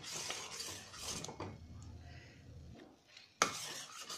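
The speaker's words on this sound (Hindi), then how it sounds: "इसको लगातार चलाते हुए 2 से 3 मिनट तक और कुक कर लेंगे" Almond firni being stirred in a pot on a low flame, a spoon scraping and rubbing against the metal in uneven strokes, quiet and close, with a sharper clink near the end.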